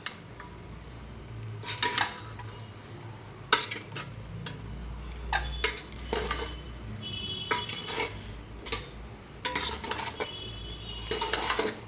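A spoon scrapes and clatters against a pot as khichuri topped with ghee and garam masala gets stirred, irregular knocks and scrapes over a soft background hum, near and without speech.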